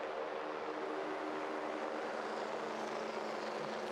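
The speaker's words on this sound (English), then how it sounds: "the helicopter lifts off and makes its way" A rescue helicopter lifts off at a Paralympic alpine skiing super-G course in Sochi, its engine and rotor forming a steady, loud broadband roar that holds evenly throughout.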